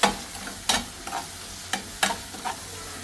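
A spoon scrapes and stirs onion curry with crushed tomato in a hot pan in several quick bursts, with a soft sizzle underneath.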